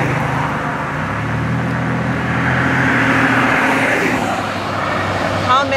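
A car drives past from the left on a road, its engine and tire noise swelling and then fading, with a low, steady traffic rumble and faint voices behind.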